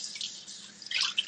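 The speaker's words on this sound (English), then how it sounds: "I'm going to rinse this one out." Tap water runs as a container is rinsed out in a kitchen sink, making a short, close, steady splashing hiss that swells toward the end, with no talk.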